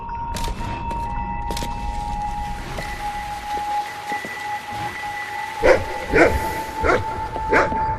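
Video game dog barking repeats in a series of sharp yips over a steady electronic hum and game-like background, growing more frequent toward the end.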